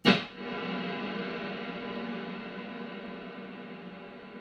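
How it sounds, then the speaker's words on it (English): A single guitar strum through a cloud reverb setting on a Friedman pedalboard blooms into a slow, swelling wash that sustains and gradually fades, soft and ambient. "The third reverb I have in this bank is a cloud setting"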